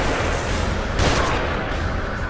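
One sharp gunshot rings out from above in the survival horror game The Evil Within. It cuts through a steady wash of loud, noisy background ambience.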